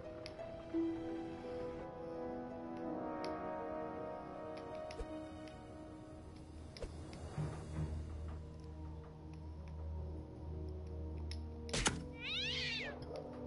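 A cat meows amid game music and ambience in South Park: The Fractured But Whole, a few short mid-pitched cries near the middle, with faint ticking and a thunk later.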